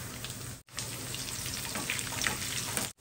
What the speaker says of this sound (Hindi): तेल गर्म हो जाए तो इसमें काजू के टुकड़े ऐड करेंगे, और सुनहरा होने तक इसे फ्राई करेंगे।